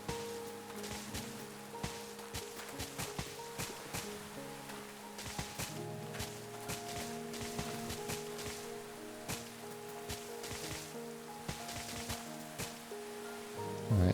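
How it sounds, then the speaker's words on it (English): Steady rain falls in the video game Minecraft, a dense hiss with scattered drop ticks running the whole time at moderate level, with no talk. "Oh, not the rain."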